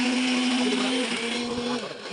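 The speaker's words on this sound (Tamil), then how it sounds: "எது எப்படியா யார் அடிச்சாலும் மிக்ஸி தானே அரைக்குது" A kitchen mixer grinder whirs steadily as it blends a biscuit milkshake, a loud close motor drone that holds its pitch, dips slightly near the end, and carries on with no talk over it.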